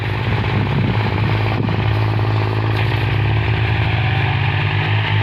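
A tractor's diesel engine drones loudly and steadily, chugging under load while plowing in third gear through damp straw-covered soil, close by with no voices.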